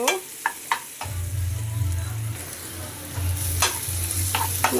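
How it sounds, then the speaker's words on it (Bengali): Onions fry toward brown in a pan, giving a steady sizzle under a low hum, with several sharp clinks and scrapes of stirring near the start and again toward the end. "আমার পেঁয়াজটা একটু বাদামি হতে সময় লাগতেছে"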